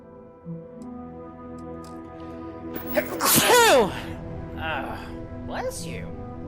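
A single loud sneeze from a character in the Starfield video game, a sharp burst midway through, with quiet background music and short spoken remarks around it.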